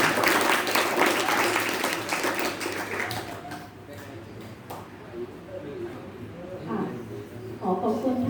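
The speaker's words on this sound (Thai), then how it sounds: "ปรบมือให้ ตัวเองด้วยค่ะ" Applause from a school assembly audience fills the opening seconds loudly, then tails off into scattered claps while someone talks over it.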